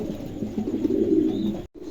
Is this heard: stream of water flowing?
no